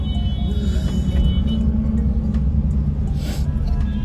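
Heavy road traffic crawling through snow at Pahalgam, Kashmir: a steady low engine rumble of cars and larger vehicles close by, with faint higher mechanical whines and a brief hiss, no one speaking.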